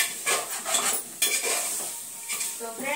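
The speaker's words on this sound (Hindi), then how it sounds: "तो दाल और मसाले को अच्छे से मैं भून ले रही हूँ।" Lentils and spices are fried in a pan, with loud metal spoon scrapes and clanks against the pan and a light sizzle between strokes, close and busy.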